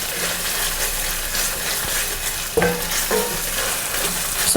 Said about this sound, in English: Popping, popping, popping.